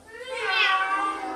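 A voice imitates a cat with one drawn-out, high meow, close and moderately loud.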